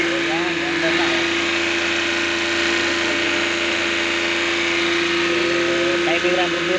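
Motorcycle engine running steadily after a hard start caused by a timing problem, a constant close idle hum with someone speaking over it.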